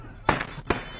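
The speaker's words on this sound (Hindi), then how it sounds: "इस दौरान खूब आतिशबाजी की और लोगों ने खुशी जताई।" Fireworks at an outdoor oath-taking celebration: two loud, sharp bursts about half a second apart, close and booming.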